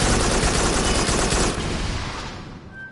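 Enemy gunfire in the sci-fi VR shooter Farpoint: a dense, loud burst of rapid shots for about a second and a half, then easing into a fading, rumbling tail.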